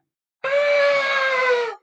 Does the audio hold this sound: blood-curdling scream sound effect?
yes